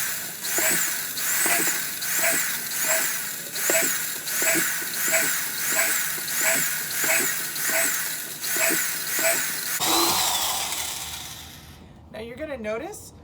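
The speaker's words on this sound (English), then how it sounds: "when I turn on my drill, I'm going to go down into the plastic" A power drill whines in a repeating rising-and-falling pattern as it bores into a plastic bucket, about a dozen pulses, then winds down near the end.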